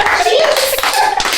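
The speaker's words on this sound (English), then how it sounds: "A round of applause." Applause from a room full of people, brisk dense hand clapping running steadily throughout, close and loud, with excited voices mixed in.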